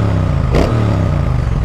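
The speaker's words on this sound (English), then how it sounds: "That's the stock exhaust," A Triumph Speed Twin 1200 motorcycle with its stock exhaust idles with a deep, loud rumble, then gives a brief quick rev blip before settling back to idle, close up.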